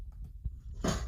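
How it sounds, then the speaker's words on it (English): A soft, dull thump of a book snapping shut, close and quiet, followed by a brief papery rustle. "Let's import the sound of the book closing."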